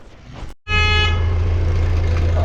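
A tractor horn, on a tractor hauling a sugarcane trolley, blares one loud sustained honk, steady and close after a brief gap, with rough engine rumble underneath.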